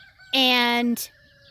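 A chicken in a backyard coop lets out one loud, drawn-out squawk, close by, after a quiet moment.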